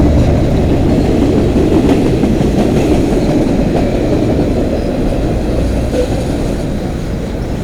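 A short CN freight train rolls through the London East rail yard, its steady rumble and rhythmic clickety-clack of wheels on rail joints loud and close throughout.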